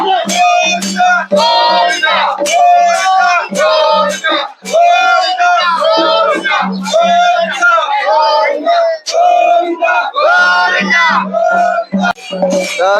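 A large crowd at a traditional Hindu procession in Achalpur chants Govinda Govinda, loud rhythmic shouted slogans repeating in bursts over about thirteen seconds, close and dense.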